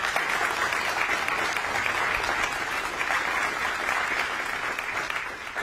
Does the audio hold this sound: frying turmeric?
no